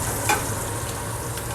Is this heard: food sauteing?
yes